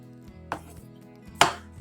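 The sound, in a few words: knife chopping fried chicken breast into cubes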